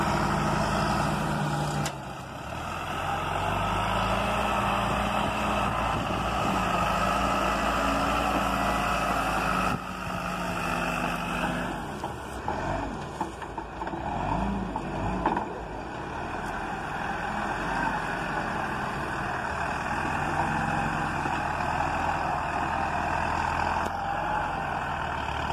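A tractor pulling a trailer loads sugarcane at a sugar mill in Pernambuco, with a continuous heavy diesel engine drone and machinery noise heard from nearby, changing in intensity, and no speech.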